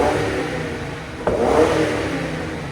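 A Ford Crown Victoria's 4.6L V8 revs through an X-pipe exhaust, a steady rumbling idle that swells into a brief throttle blip near the middle, moderately loud and close.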